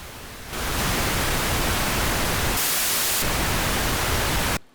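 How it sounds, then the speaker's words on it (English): A steady, dense hiss of pink noise starts abruptly, holds evenly for several seconds with a brief brighter patch, then cuts off. "I think I'm going to actually go with pink noise today."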